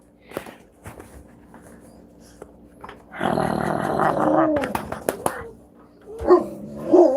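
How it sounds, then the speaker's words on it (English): Happy dog making excited sounds: a few short yips and snorts, then a longer burst of whining, growly vocalizing with sharp barks, close by in a quiet room. "Just a happy dog."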